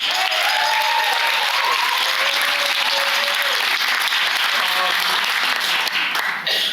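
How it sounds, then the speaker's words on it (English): Loud, sustained applause from a live theater show audience after a song introduction, a full, continuous roar of clapping with faint voices and cheers mixed in. "Please give a round of applause."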